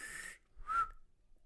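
A person attempts a whistle, giving one short, thin rising whistle tone after a breathy broadband blow, fairly quiet and heard alone without speech.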